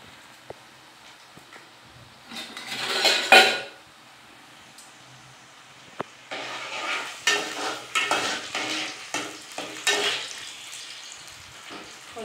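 Ginger frying in a pan while being stirred: scraping stirs and a sizzle rise in bursts, with a metallic clink, the stirring strokes repeating in a loose rhythm, close and moderately loud, with no talk.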